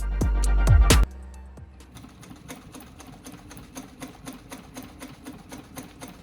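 A sewing machine double stitching a custom Honda Shadow motorcycle seat runs in a steady rapid clatter after a few loud knocks at the start, close and alone without talk.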